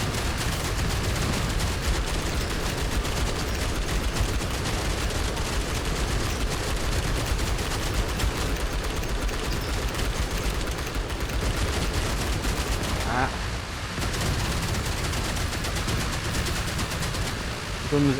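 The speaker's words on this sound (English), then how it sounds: "Guns are still going here." Sustained gunfire in the video game Outpost: Infinity Siege forms a dense, continuous roar of rapid shots and hiss, steady and loud throughout with barely any pause.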